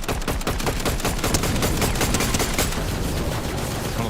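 Rapid automatic gunfire in Fortnite, a dense, steady stream of loud, close shots rattling continuously with no pause and no talking.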